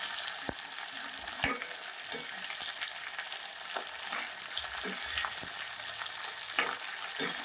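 Okra sizzles and fries in a pan as it is stirred, a constant hissing crackle with occasional sharp scrapes and knocks of the spoon against the pan, no voices.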